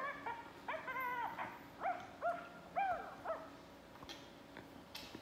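Battery-powered toy puppy barking in a series of high, yappy mechanical barks and yips, fairly close and moderately loud, then quieting toward the end with no talk over it.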